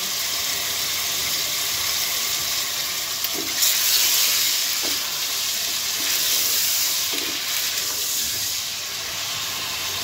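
Garlic ginger paste and onion frying in a pan for palak gosht, a steady close hiss of sizzling with a few faint stirring knocks, no talking.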